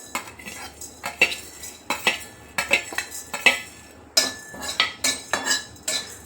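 Coriander seeds are stirred in a hot kadhai over a gas flame, giving a steady run of sharp metallic clinks and scrapes from the spatula against the pan, close and alone without talk.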